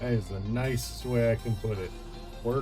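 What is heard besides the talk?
No everyday noises stand out.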